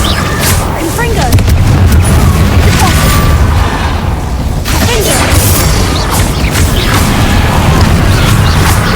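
Confringo blasting spell explosions in the Hogwarts Legacy video game, very loud, continuous booming and crashing blasts with dense rumble throughout.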